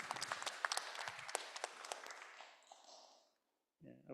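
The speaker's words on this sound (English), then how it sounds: "So a round of applause to all of the organizers." Audience applauding the organizers at the end of a panel discussion, a fairly quiet scatter of claps that fades out into silence before a brief voice starts.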